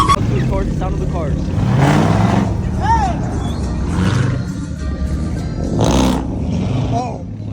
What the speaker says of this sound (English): Sound of the cars.